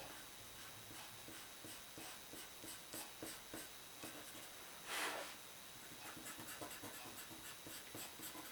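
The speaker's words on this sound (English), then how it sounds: "And I'm erasing most of the stem as well" A small rubber eraser scrubbing graphite pencil lines off paper while drawing a ginkgo leaf, with soft, rapid rubbing strokes and a brief louder burst midway, close and quiet, with no talking.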